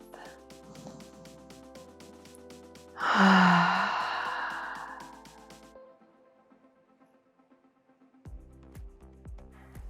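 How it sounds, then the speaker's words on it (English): A long, deep inhale and exhale during a yoga flow, swelling loudly and then fading slowly over several seconds, with soft background music around it. "Taking one nice deep breath."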